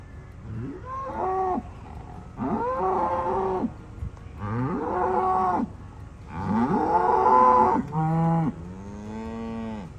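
Several neighbouring cows on an off-grid Australian property moo repeatedly and loudly, five or six long drawn-out calls in close succession, overlapping at times, with no talking.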